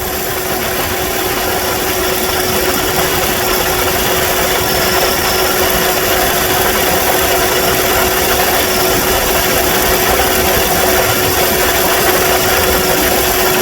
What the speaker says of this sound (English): Now let's see if the compressor will stay engaged this time.